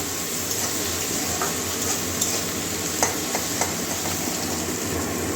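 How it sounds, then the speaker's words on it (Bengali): Tomatoes and onions with salt fry in a pan as an egg and pointed gourd dish is cooked, giving a steady close sizzle with a few small clicks of stirring and no talk. "টমেটোটা অনেকটা ভেজে নিয়েছি, টমেটো পেঁয়াজের নরম হয়ে গেছে"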